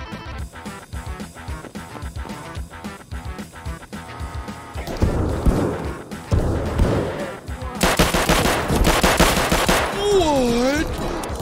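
Game gunfire from Escape From Tarkov, with bursts of shots and rapid automatic fire growing louder and denser toward the end, mixed with game sounds and other noise.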